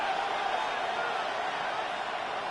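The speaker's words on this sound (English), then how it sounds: "this crowd's going to get even louder" Stadium crowd in the Madden 26 football video game, a dense, steady roar that holds at an even level from start to finish with no distinct breaks.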